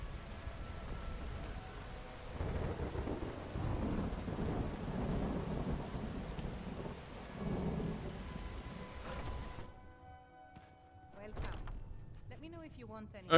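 Heavy rain pours steadily and loud in the video game Skyrim, with deep thunder rumbling through the first ten seconds before the downpour cuts out into near quiet and a faint voice.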